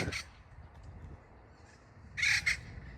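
Outdoors, a bird gives two harsh, crow-like caws, one at the start and a louder double call near the end, over quiet background ambience.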